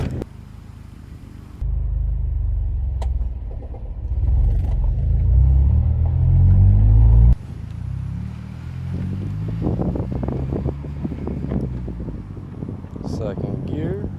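Acura TSX with a manual transmission shifting gears while driving, a steady low engine rumble that climbs, drops sharply at the shift, then settles, with voices talking over the cabin noise.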